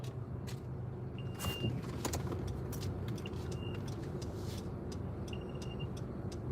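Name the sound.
road traffic in Montego Bay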